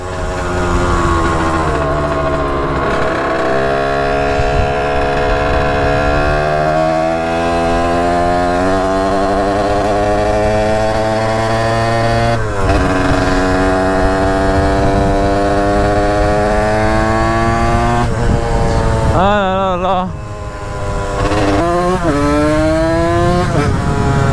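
A motorcycle engine revs hard and repeatedly on a street during wheelie riding, each loud, close rise in pitch climbing and falling back, with one brief drop near the end before the revving resumes.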